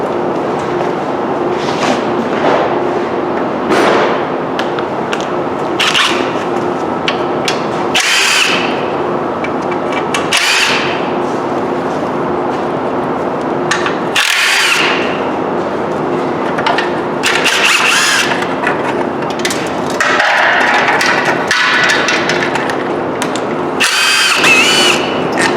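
A power tool whirs in repeated loud bursts of varying length as it works the exhaust manifold bolts off a Dodge 4.7 engine during a teardown, with brief gaps and clanks between runs.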